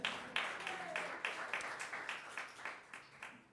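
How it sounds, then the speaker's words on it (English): A small audience claps at an afternoon music performance, quiet and fairly distant, with a rhythmic, slightly regular patter of hands that carries steadily to the end. "Give yourselves a round of applause."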